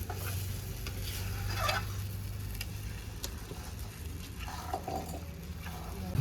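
Fresh mankochu (giant taro) paste frying in oil and stirred in a pan, a soft continuous sizzle with scraping spatula strokes, close but quiet, no voices.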